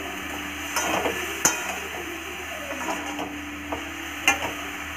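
Tomato and green chili stirred into a sizzling pan of poppy seeds with salt and turmeric, a steady fry hiss broken by a few scraping spatula strokes against the pan, close and moderately quiet, with no voices.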